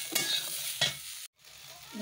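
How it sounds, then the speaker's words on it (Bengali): Eggs sizzle loudly in hot oil in a pan, with stirring scrapes and a steady hiss that drops out briefly before resuming. "এখন ডিমগুলো ভেজে নেব"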